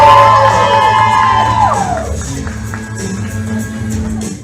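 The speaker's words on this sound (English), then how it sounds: "we want you to yell, we want you to scream, we want you to make noise" A large crowd at a live speed-painting show cheers, whoops and shouts loudly and continuously, a dense roar that holds for the whole stretch.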